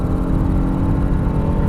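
A 2024 Honda Passport's 3.5-liter naturally aspirated V6 with VTEC running under load, a loud, steady low engine drone with a rich rumbling tone, close and without speech.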